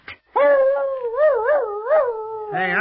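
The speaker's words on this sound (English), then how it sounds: "when a dog howls, he is mourning because there is death in the air" A dog howls in one long, wavering, mournful tone close by, the pitch rising and dipping several times before breaking into a higher yelp at the end.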